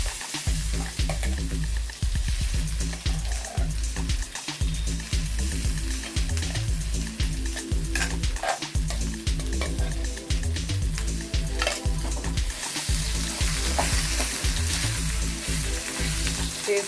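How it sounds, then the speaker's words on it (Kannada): Gongura chutney ingredients sizzle and fry in hot oil while being stirred, a loud, steady crackle with repeated rhythmic scraping strokes of the spoon through the pan. "ಎಣ್ಣೆಯಲ್ಲಿ ಈ ಥರ ಕ್ಲೀನಾಗಿ ಎಲ್ಲ ಮಿಕ್ಸ್ ಮಾಡ್ಕೊಬೇಕು."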